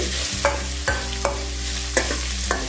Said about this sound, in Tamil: இது எல்லாத்தையும் போட்டு இதை வதக்கிக்கலாம்